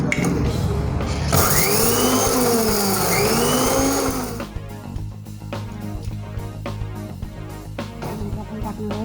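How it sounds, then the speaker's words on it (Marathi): Electric kitchen mixer grinding cumin, coriander, salt and curd for spiced buttermilk, a loud whirring motor run for about four seconds with a rising pitch, then stopping, followed by clinks and handling sounds. "मिक्सरमधून वाटून घेतो आधी"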